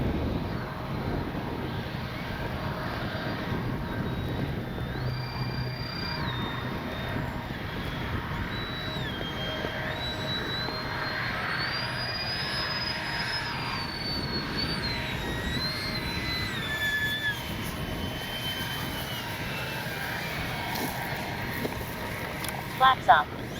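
FMS 70mm A-10 Thunderbolt II V2 RC jet flying overhead, a continuous whining turbine-like hum with a pitch that rises and falls as it passes, steady in level with wind noise beneath.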